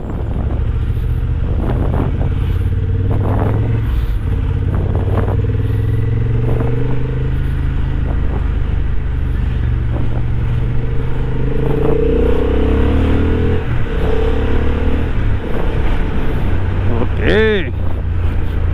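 A large pack of motorcycles rumbles past on a dangerous mountain road between Kafnu and Pin Valley, with engines droning and revving beneath continuous wind noise, and a horn briefly sounding near the end.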